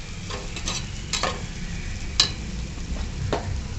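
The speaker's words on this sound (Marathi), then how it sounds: "नंतर आपल्याला हे धुतलेले तांदूळ आपण त्यात टाकून परतवून घेऊ" Washed rice being stirred and sautéed with spices and peas in a pan for matar pulao; soft sizzling underneath with several sharp scraping clinks of a spoon against the pan, close and without talk.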